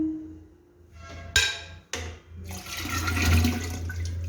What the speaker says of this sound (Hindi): अब इसमें मैं हसबे ज़रूरत पानी ऐड करूँगी।